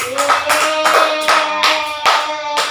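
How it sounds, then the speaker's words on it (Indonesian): A small group claps together in a steady, rhythmic burst of applause, close by and lively. "tepuk tangan untuk kita semua."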